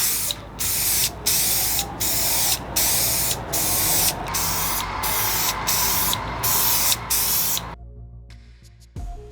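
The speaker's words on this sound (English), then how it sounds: "I'm spraying them with some clear glaze to make them shiny." Clear glaze sprayed from an aerosol can onto small resin diorama pieces, a loud steady hiss broken into about ten short bursts with brief gaps, stopping near the end with a faint clatter.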